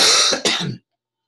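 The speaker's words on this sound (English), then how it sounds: "I've been coughing all day today" A man coughs during an online computer architecture lecture, two quick harsh bursts close to the microphone, followed by silence.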